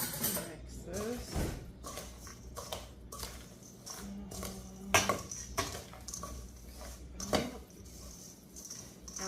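Granola ingredients are stirred in a bowl with a utensil, giving repeated close scraping and clinking knocks in an uneven rhythm over a faint room hum.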